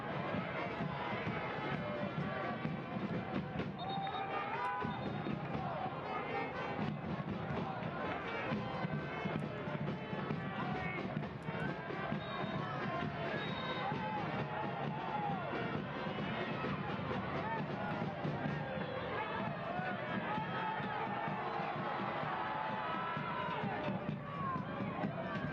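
Home crowd at a Spokane Velocity versus Portland Hearts of Pine soccer match, a broad, sustained roar of boos and stadium noise from a distance, with a commentator talking over it throughout.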